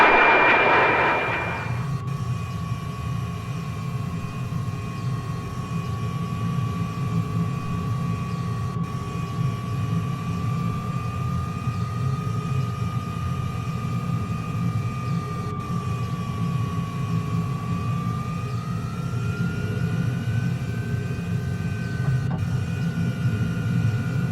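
A steady, loud jet engine drone from a de Havilland DH.112 Venom with a de Havilland Ghost engine in Microsoft Flight Simulator, a sustained whine slowly rising in pitch, continuous throughout with no talking.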